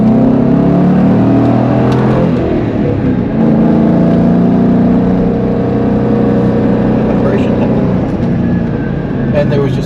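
Corvette engine pulling and rising in pitch as it accelerates along an open road, loud and steady through the clip with a continuous low drone, while a person talks over it.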